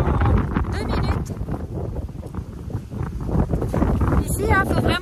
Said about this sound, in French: le vent, la pluie se lève en 2 minutes